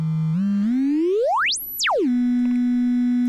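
An ER-M Polygogo oscillator plays an unquantized tone, loud and clean, that slides smoothly upward from a low pitch, sweeps up to a very high squeal, then drops back down and holds steady at a low note.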